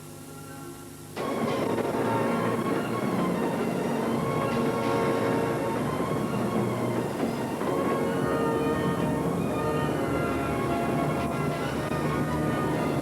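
A train rumbles steadily with a dense, continuous roar and faint rhythmic clatter, starting abruptly after a quieter moment and staying loud throughout.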